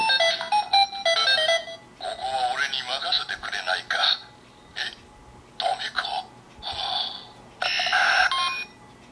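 Bursts of bright electronic tones and chirpy synthesized effects from a Power Rangers Beast Morphers toy morpher brace in call mode, several short phrases with pauses between them, close and fairly loud.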